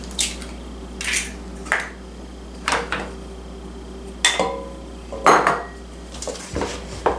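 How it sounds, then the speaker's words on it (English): A spoon stirs thick cream puff dough with vanilla and eggs in a pot, giving about eight separate clinking scrapes against the metal at an uneven, unhurried rhythm, close and clear with no talk. "I've been stirring this for a while."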